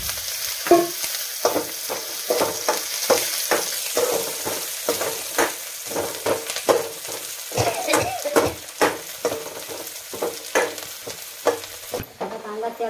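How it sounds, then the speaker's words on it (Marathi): Chopped onion frying in oil in a pan sizzles steadily while a spatula stirs and scrapes in a regular rhythm of short strokes, close and moderately loud. "आपण आता तेल टाकून घेऊ कांद्यामध्ये."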